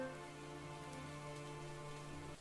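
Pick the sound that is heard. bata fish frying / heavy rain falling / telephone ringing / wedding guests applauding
heavy rain falling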